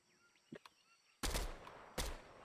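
Gunfire in the Fortnite video game comes from behind the player: two loud, sharp bursts, each followed by a ringing tail, after a quiet stretch with faint clicks.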